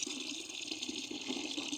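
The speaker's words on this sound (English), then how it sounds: "I'm going to take water from my hose that is pumped through my well, which is all good and natural water, and we're going to add it to this bucket" Well water runs from a garden hose into a bucket outdoors, a faint, steady gushing fill with no voices.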